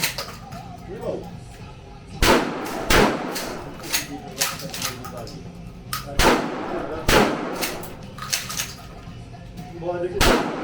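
At an indoor shooting range in Gdansk, Poland, loud close gunshots crack one at a time at irregular intervals. Talking runs between the shots.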